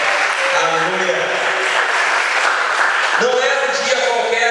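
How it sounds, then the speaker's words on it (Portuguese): A church congregation applauding steadily and loudly throughout, with a preacher's voice speaking over the clapping. "Aplauda o Senhor com fé."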